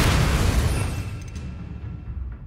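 A spell blast in a Hogwarts Legacy fight erupts as a loud, broad explosive boom that rumbles and slowly fades, with a few smaller bursts trailing in the tail and no talking.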